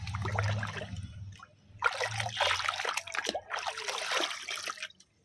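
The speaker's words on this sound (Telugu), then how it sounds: "ఇలా మొత్తం మనం ప్రిపేర్ చేసుకునే మిశ్రమం మొత్తాన్ని కూడా ఇలా వాటర్లో యాడ్ చేసేసుకుందాము" A prepared plant-nutrient mixture pours and splashes into water in a few bursts, with a soft low hum in between and no speech.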